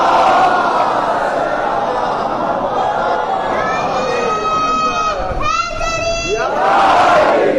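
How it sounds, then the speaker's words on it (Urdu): A Shia congregation at a Muharram majlis in a Bangladesh imambargah recites salawat in unison, a loud, sustained swell of many voices chanting together and filling the hall. "ایک صلوات پڑھیے محمد و آل محمد کا"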